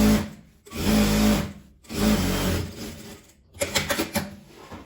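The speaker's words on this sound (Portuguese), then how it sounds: "Vou costurar." A sewing machine stitches a seam along fabric in short close bursts, three runs of whirring separated by brief pauses.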